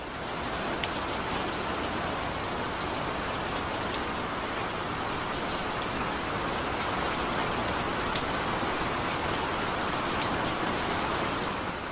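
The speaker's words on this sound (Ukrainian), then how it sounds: "Дощ навис над містом мерехтливою срібною завісою." Steady rain falls over a city, a dense even hiss of drops spattering on surfaces that carries on without a break, with no voices.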